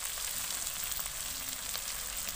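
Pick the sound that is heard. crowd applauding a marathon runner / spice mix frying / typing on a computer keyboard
spice mix frying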